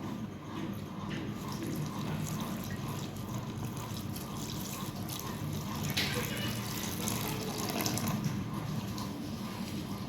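Water is poured into ragi flour mixed for nippattu dough in a home kitchen. It makes a soft, steady trickling wash throughout, fairly quiet and close by.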